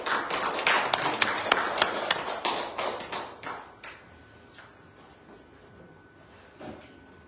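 Audience applause for Brother Nelson at a church talk, a burst of clapping for about four seconds that quickly dies away into quiet room tone.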